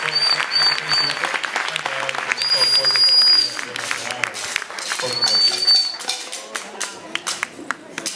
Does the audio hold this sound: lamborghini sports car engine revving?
no